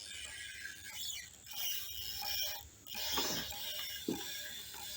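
A winch ratchets and clicks through a pulley system while recovering a 4x4 vehicle in rough bush terrain, the mechanical pawl clatter rising and falling in bursts with brief pauses and a sharp clank near the end.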